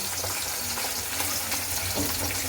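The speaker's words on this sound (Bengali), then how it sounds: "এবার ভাজবো আলু" Steady crackling sizzle of potatoes frying in a pan, continuous and fairly loud, with a few scraping stirs.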